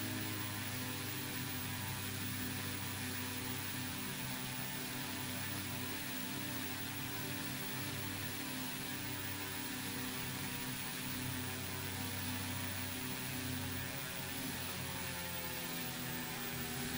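Simulated Carenado B1900D twin turboprop on landing approach to KLGA in X-Plane 11, a steady constant turbine and propeller drone with a high whine, unchanging and without voices.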